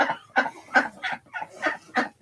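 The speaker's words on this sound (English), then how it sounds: "she's our temple duck" A pet duck gives a run of nasal quacks, seven or eight evenly spaced calls at close range, loud and clear with no talking.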